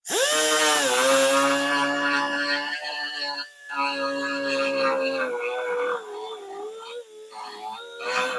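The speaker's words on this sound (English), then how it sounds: "I need to really grind a groove right along that crack before I fiberglass it." A power grinder cuts a groove along a crack in the fiberglass body of a 1979 Corvette, giving a loud, steady, close whine that dips slightly in pitch and briefly eases off a few times.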